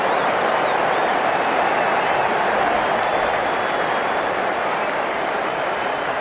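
Crowd at a Five5 World League cricket match between Sri Lanka and the Netherlands, cheering and applauding as a steady, dense wash of noise that holds at the same level throughout, with no clear talk above it.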